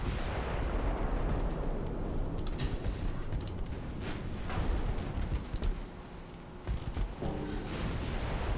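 Naval ship guns fire and shells strike in a 1900s campaign video game: a dense, rumbling barrage of booms and blasts with crackling bursts, loud and continuous, easing slightly near the end.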